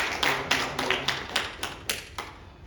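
A church congregation claps in thanks during a New Year's Eve worship service, a brief round of sharp, close claps that rise to a peak and fade within a few seconds, with no voices.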